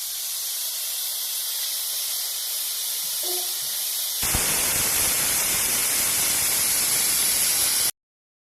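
A pressure cooker cooking sardines vents a loud, continuous steam hiss that jumps sharply louder partway through, then cuts off abruptly.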